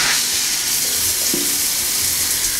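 A water tap runs at full flow into a sink, a steady, loud, splashing hiss close by that continues throughout without interruption.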